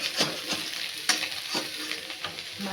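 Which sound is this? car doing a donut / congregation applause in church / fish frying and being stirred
fish frying and being stirred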